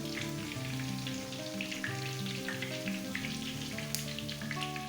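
Chapli kebabs made from minced meat sizzle and crackle steadily in a pan, a dense continuous frying hiss with scattered pops, heard close up with no talking.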